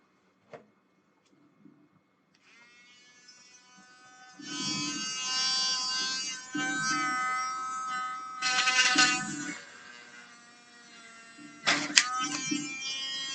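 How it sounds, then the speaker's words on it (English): Dremel rotary tool grinding out screw holes in a 3D-printed console case, a steady high whine that starts quietly, then swells into louder bursts of contact with brief pauses between passes. "Right now I'm just dremeling out the case screws because they didn't quite make it through the print process."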